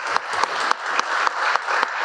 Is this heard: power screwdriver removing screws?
no